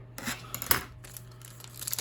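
Scissors snipping open a foil Pokémon card booster pack, a short raspy crinkling cut with a sharp snip near the start, close up over a low steady hum.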